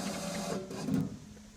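A SmartSet LTX setworks controller's H-bridge nudging a motor into position, a faint, brief whirring with a short jittery bump near the middle, quiet and close with no speech.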